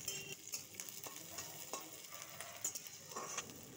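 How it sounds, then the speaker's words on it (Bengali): Chopped onion and garlic go into hot oil, sizzling steadily and close, with occasional scrapes and stirring knocks against the pan and no voices over it. "এবার তেলের মধ্যে দিয়ে দিলাম বেশ কিছুটা কুচনো পেঁয়াজ আর রসুন।"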